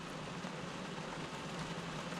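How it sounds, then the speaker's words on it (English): Heavy rain pours down on a fishing pier, a dense, steady hiss of drops with no breaks, fairly soft and even throughout. "it started pouring down rain"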